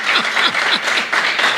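Congregation at an evangelical Bible study applauding, a dense steady wash of many hands clapping close and loud with faint voices mixed in.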